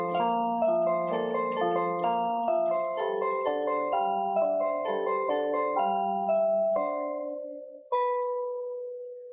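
Piano plays a song with both hands, a flowing run of close, clear notes with steady broken-chord motion that slows into a held chord, then one final struck chord rings out alone.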